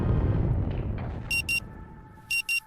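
In the video game Rue Valley, a low rumbling drone fades out and a steady tone rises, then two pairs of sharp electronic alarm beeps sound a second apart, clear and close.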